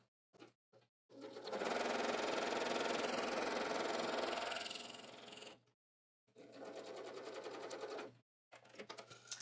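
A sewing machine with a quarter-inch presser foot stitches a garment pocket, running steadily for several seconds, pausing briefly, then stitching again in shorter bursts, close and clear with no talking.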